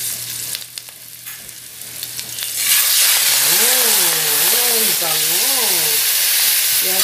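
Pork dropped into a hot pan for chopsuey bursts into a loud, steady sizzle that fills the kitchen. A voice hums or sings a wavering melody over the frying.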